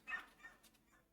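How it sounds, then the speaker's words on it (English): A border collie in the Planet Zoo game gives a few quick, faint barks over a short stretch, heard alone without talk. "a border collie and a pickup truck going by, barking its head off."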